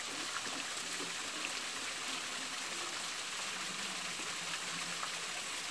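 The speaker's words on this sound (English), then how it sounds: "Fill this container up" Water from a mountain stream on Mount Wellington running and splashing steadily as a container is filled by hand, a constant close broadband rush with no talk.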